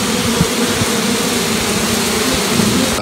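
Honeybees fan their wings at the entrance of a bee box, giving off a loud, continuous close-up buzz with no pauses.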